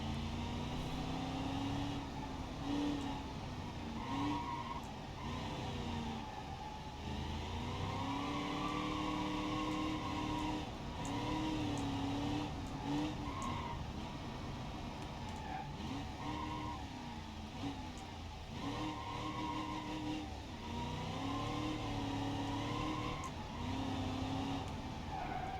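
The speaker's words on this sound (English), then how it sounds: "I show a few examples of good drifting in this" Tires squeal steadily through sliding corners as a car drifts in a racing video game played on a ThrustMaster X racing module, the engine droning and revving underneath for the whole stretch with no talking.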